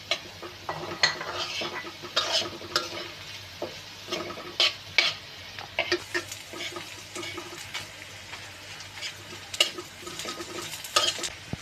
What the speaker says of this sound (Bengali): একে একে এখন আমি সব মশলা অ্যাড করব, শুকনো মশলাগুলি অ্যাড করব।